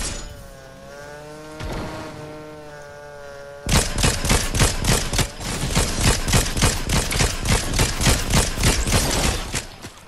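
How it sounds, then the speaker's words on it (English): Rapid gunfire in a battle royale video game, a fast burst of repeated cracking shots that suddenly starts and keeps going, preceded by a motorbike-like engine whine. "I hear gunshots."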